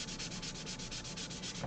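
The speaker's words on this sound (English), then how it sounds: "you can always take some sanding paper" Sandpaper rubbed over a woodburned panel to soften graphite transfer lines, a steady rhythmic scratchy rasp of quick back-and-forth strokes, close and continuous, with no talking.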